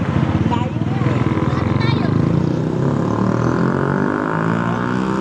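A motorcycle engine drones past on a city street along Roxas Boulevard, its throbbing, pulsing note loud and close for the first seconds, then fading slightly under ongoing voices and street noise.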